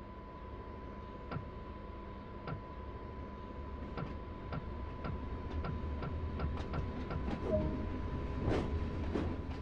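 In the Train Sim World game, a DB BR 155 electric locomotive rolls along the Ruhr-Sieg Nord line with a low steady rumble, a constant whine and regular rhythmic clacks over rail joints, gradually growing louder.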